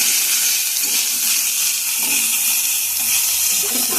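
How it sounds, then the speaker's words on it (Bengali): Water pours into a pan of spiced pumpkin greens with lentils, making a steady, close hiss and splash with a faint sizzle throughout. "সামান্য পরিমাণ কিন্তু জল এটার মধ্যে দিয়ে দিতে হবে"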